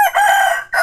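A rooster crows once, close and loud, a single bright drawn-out call with a brief break near the end.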